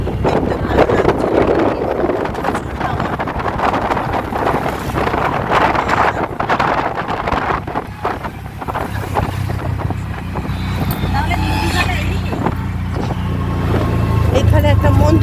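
An auto rickshaw rolls along an open, tree-lined country road near Digha, its steady engine and road rumble continuous and close, buffeted by wind noise, with a voice talking over parts of the ride.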